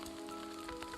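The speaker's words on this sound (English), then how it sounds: "It's currently hailing outside." Hail mixed with rain falling outdoors on a trail near the Georgia–North Carolina border, a steady dense patter of drops and small ice pellets close by, with no talking.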